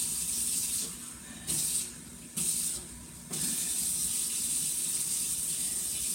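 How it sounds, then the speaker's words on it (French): Cold water runs from a kitchen tap in a steady broadband hiss, broken by a few short surges as the flow shifts, close and continuous with no talking. "je fais couler l'eau"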